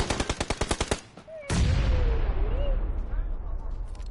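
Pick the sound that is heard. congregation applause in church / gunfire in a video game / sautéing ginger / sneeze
gunfire in a video game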